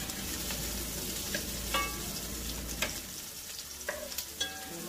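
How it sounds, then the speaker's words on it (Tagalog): Garlic sautéing in a pan for butter chicken, a steady close sizzle throughout with occasional sharp clicks and scrapes from stirring, no talking. "igisa muna natin itong ating bawang"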